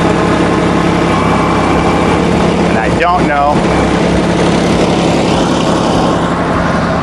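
A tractor engine runs at a steady loud idle close by while stacking materials for a firewood pavilion, a continuous low rumble throughout, with someone speaking briefly over it.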